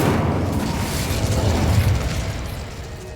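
A fiery Incendio spell blast cast in Hogwarts Legacy, a dense roaring burst of flame that rumbles loudly and steadily for about three seconds before easing off slightly at the end.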